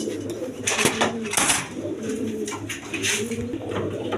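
Raj Golla pigeons coo in a loft, a steady murmur of soft repeated coos with occasional louder calls, under faint clinking of dishes or metal.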